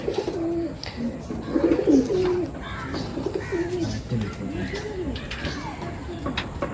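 Madrasi pigeons coo repeatedly in low, rolling phrases close by, one call after another across several seconds, with soft voices and ambient noise underneath.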